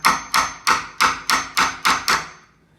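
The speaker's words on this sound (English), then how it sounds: "So I'm just going to hammer few times over here and then just remove the stock." Seven sharp hammer blows land at an even rhythm while a door is fitted, each a loud close knock that rings briefly before the next strike, with no voices.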